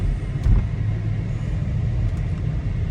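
A car engine rumbles low and steady at close range as the vehicle rolls slowly along, with a faint bump or thud early on.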